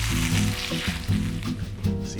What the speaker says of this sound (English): I'm taking all these beefs out the pan.